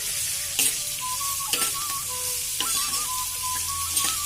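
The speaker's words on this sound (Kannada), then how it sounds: "ಹಿಂಗು ಇದಕ್ಕೆ ಒಗ್ಗರಣೆಗೆ ಹಾಕೊಳ್ಳಿ" Hing (asafoetida) tempering sizzles in hot oil for a spring onion sabzi, a steady loud crackling fry broken by a few short scraping stir strokes, with no voices.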